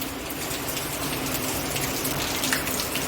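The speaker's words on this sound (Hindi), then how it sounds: "आज भी अब स्टार्ट हो गई है बारिश होना और रुकने का नाम नहीं ले रही है" Steady rain falling outdoors, a dense, even patter of drops that continues unbroken throughout with no voices.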